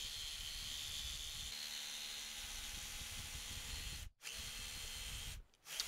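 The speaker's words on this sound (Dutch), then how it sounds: "We doen dat met een heel fijn zaagje, dat we echt heel nauwkeurig kunnen werken." A continuous high-pitched buzzing whine of a small fine power saw cutting wood, running steadily with two brief dips where it stops and restarts.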